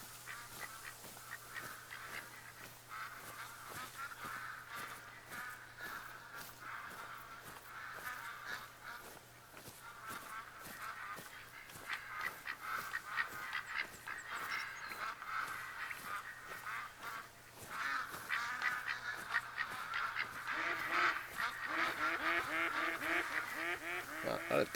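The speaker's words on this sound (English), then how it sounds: "Oh, a lot of ducks in here." Ducks in the Farming Simulator 22 video game quack and honk in a dense, continuous flock chorus, fairly faint, growing busier and louder toward the end, with no one speaking.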